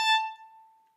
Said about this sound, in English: This is 880.